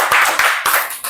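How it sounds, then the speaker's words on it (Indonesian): Classroom of high school students clapping for a presenting student group, a brief burst of several hand claps in uneven rhythm, close and fairly loud. "tepuk tangan untuk kelompok 3"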